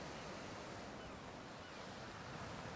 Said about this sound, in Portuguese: é possível ver como sua paisagem precisa aguentar as incansáveis arrebentações das ondas